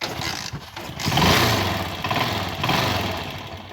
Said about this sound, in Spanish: vas a arrancar la moto